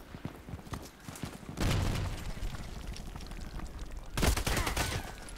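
RPKT machine gun firing in the shooter Contract Wars, two sustained bursts of rapid automatic fire, loud and close, separated by a few seconds of quieter background noise.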